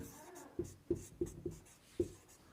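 Chalk or marker taps and strokes on a board during a math lesson, about six distinct close knocks in an irregular rhythm, with no talk over them.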